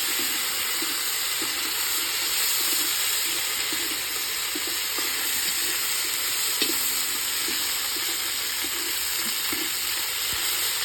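Jackfruit vegetable sautéing with ginger-garlic paste in a pan over a wood-fired stove, a constant close hiss of sizzling with occasional light taps of a stirring spoon and no talking.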